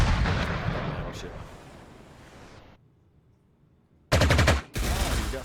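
Battleship guns fire in the strategy game Panzer Corps 2 in Norway: a loud booming salvo with rumbling decay that cuts to near silence, then two sharp, close blasts in quick succession.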